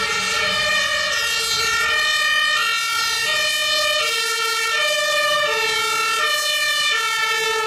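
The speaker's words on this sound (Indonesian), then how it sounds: "Wow, ada truk pemadam kebakaran." A toy fire truck siren wails in a repeating two-tone electronic pattern, loud and continuous throughout, with no talking.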